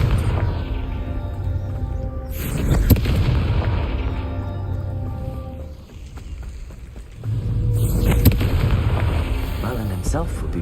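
A Confringo spell cast in Hogwarts Legacy sets off two loud booming blasts with rumbling tails, a few seconds apart, over game music and effects, with a voice in the mix.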